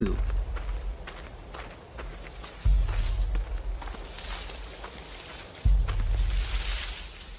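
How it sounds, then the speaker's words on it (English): Footsteps of someone following in the horror video game Outlast 2, repeated rushing steps over a tense rumbling ambience, with two heavy low thuds striking at intervals. "Or the terrifying sound of someone following you in Outlast 2."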